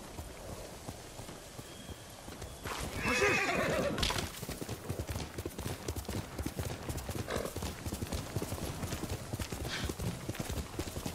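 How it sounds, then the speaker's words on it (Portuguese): Horse hooves clip-clop steadily at close range in the samurai video game Ghost of Tsushima, with a loud whinny bursting out partway through, all alone with no talking. "Toda hora eu fico apertando um X pra tentar montar um cavalo."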